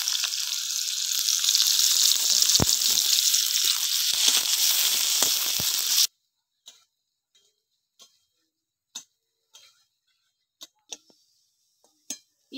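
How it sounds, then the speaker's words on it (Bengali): Chopped onion, garlic and cumin frying in oil in a pan, a continuous close hiss and sizzle with occasional pops for about six seconds, then near silence broken by scattered faint ticks and clicks. "পেঁয়াজটা ভাজা হয়ে গেছে"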